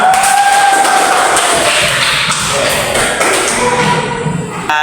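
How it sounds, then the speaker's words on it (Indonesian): A classroom of students applauding together, a dense, loud burst of hand clapping mixed with cheering voices that gradually thins out. "tepuk tangan buat kita semua"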